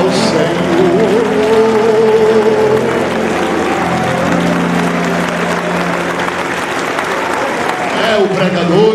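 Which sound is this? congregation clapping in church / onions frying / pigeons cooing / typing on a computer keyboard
congregation clapping in church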